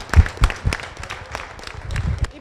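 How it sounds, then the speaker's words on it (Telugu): An audience at a Telangana first-anniversary celebration applauds, a burst of clapping with loud low thumps near the start that settles into a steadier patter, mixed with faint crowd murmur. "గట్టిగా చప్పట్లు."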